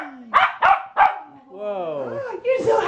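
An excited puppy gives three quick close yips, then a rising, whining whimper and another yelp, loud and near in a home.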